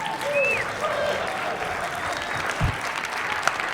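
Comedy club audience applauding steadily throughout, a dense wash of clapping at constant loudness with some crowd noise and a few whistles mixed in.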